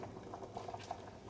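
Chicken broth bubbling at a steady boil in a pot as biscuit dumplings are dropped in, with a soft continuous bubbling and a few small plops and pops close by, no talking.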